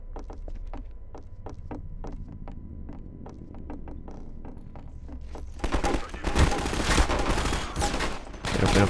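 Gunfire in the video game Half-Life 2: Episode Two: a run of sharp, evenly spaced shots, then dense, loud sustained automatic fire with blasts in the second half.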